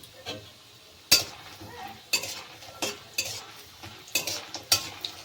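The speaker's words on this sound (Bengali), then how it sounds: "তেলটা গরম হয়ে গেছে, এখানে আমি কয়েকটা বড়ি ভেজে নিচ্ছি।" Bori, the Bengali lentil dumplings, fry in hot mustard oil with a low crackle, broken by sharp spatula clinks and scrapes against the pan about once a second.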